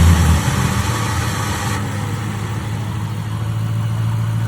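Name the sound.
Mercury Grand Marquis engine cranked and idling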